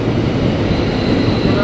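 Steady loud rumble and roar of a twelve-car KRL commuter train bound for Cikarang, heard close at the station as a continuous dense low drone, with a voice talking over it.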